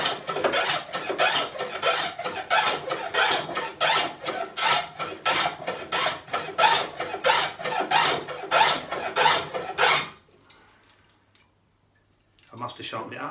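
A rebate plane cuts a small chamfer along timber in a fast, steady run of close rhythmic shaving strokes for about ten seconds, then near silence and a faint closing rustle.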